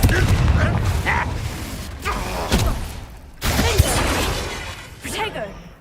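Booming spell blasts and impacts in Hogwarts Legacy combat, several heavy thuds and bursts spread across a few seconds, with voices speaking between them.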